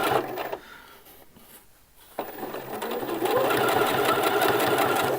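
A sewing machine stitches a T-shirt sleeve hem, running in short bursts, pausing briefly, then settling into a steady fast whirr, close and clear with no talk.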